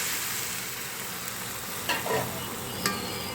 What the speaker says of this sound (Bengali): পেঁয়াজের উপর সামান্য লবণ দিলে পেঁয়াজটা কিন্তু তাড়াতাড়ি ভাজা হয়ে যায়।